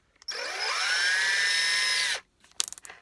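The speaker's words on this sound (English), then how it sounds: "Put a bigger drill bit on here, guys." Power drill fitted with a larger drill bit, near and loud, running steadily for about two seconds with a rising whine as it spins up, then stopping, followed by a few brief clattering knocks.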